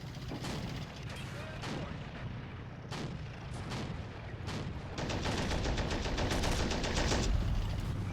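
Gunfire in the video game Men of War: Assault Squad 2, with tanks and a Bradley in combat: repeated sharp distant shots and bursts of fire, growing denser and louder in the second half into a rattling fusillade.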